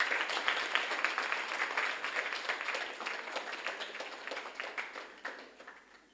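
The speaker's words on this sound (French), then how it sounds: "Applaudissez pour vous." Audience applause at a French spelling game show, a dense steady patter of many hands clapping throughout, gradually thinning and fading toward the end, with no talk over it.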